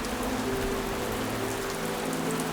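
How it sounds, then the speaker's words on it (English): Heavy rain falls steadily through a forest around a blocked bird nest, a dense continuous hiss of drops on leaves, loud and close, with no voices. "The rains continue."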